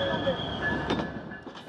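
A train rumbles past nearby with a sustained whining tone, while a voice talks over it.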